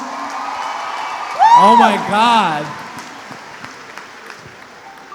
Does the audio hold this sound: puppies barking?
no